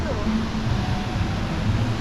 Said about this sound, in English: So, we've come to the wrong waterfall, but it looks like a good one.